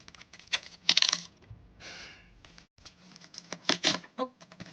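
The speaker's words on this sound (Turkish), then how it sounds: "45'li güzel kalem setini açıyorum" A Languo 45-piece gel pen set's box being opened, giving close, crisp plastic clicks, taps and rustling in quick irregular bursts, with short pauses between handling sounds.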